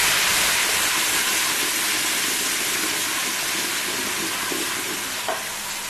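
Tomatoes going into a pan of frying onion, garlic and masala for a lobia curry, giving a steady, fairly loud sizzle and crackle that holds evenly throughout with no talking.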